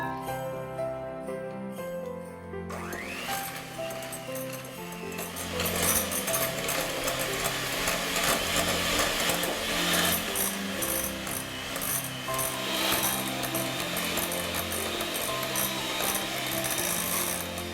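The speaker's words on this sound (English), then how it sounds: "We'll start by creaming a full cup of butter." Electric stand mixer creams a full cup of butter for orange spice crinkle cookies, starting with a faint hum and then a steady, close, rattling whir with a rhythmic clatter that runs to the end, with no talking.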